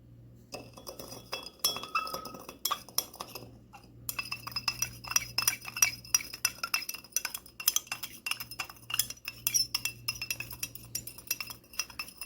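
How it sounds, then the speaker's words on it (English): A spoon stirs a sugar mixture in a glass to dissolve it, making rapid, repeated bright clinks against the glass, close and fairly quiet over a faint steady hum. "what I am doing now is stirring, okay, the mixture in order to dissolve the sugar"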